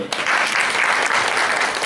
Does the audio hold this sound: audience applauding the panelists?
yes